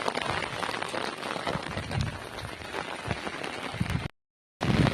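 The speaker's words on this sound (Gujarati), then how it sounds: "આખી રાત વરસાદ ચાલુ હોય. જો આ અટાણે ચાલુ હોય." Steady, dense rain pattering on a hard surface nearby, loud and continuous, cutting out briefly near the end before resuming.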